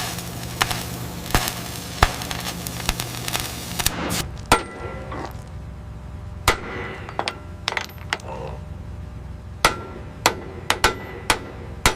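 Sledgehammer blows on the metal of a crushed car, a dozen or so sharp, ringing strikes at an uneven pace, close and clear over a steady machine drone that cuts out partway through.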